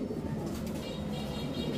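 Pigeons coo softly in a cage, a continuous low murmuring hum filling the background at moderate volume without any clear voices.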